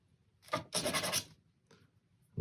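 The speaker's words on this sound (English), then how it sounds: "I'm just getting a little disc of sandpaper, giving it a quick rub." Sandpaper disc rubbed briefly over a small turned piece of black locust wood and soapstone resin, two short rasping bursts, the second longer with a few quick strokes, close and fairly quiet.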